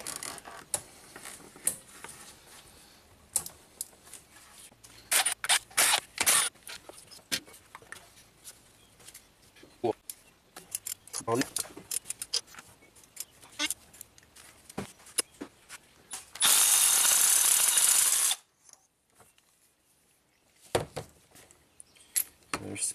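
Mechanic pulling spark plugs from a Mazda engine with an air-fuel imbalance fault, heard as intermittent ratchet clicks, tool clinks and metallic handling, with a short burst of loud hissing noise partway through, close by.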